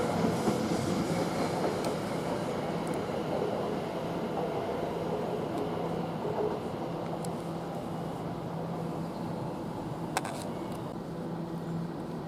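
A late-running London Victoria to Southend Victoria train pulls out of Shenfield station, giving a steady, fairly loud rolling rumble with faint wheel clicks and a brief squeal near the end, with no voices.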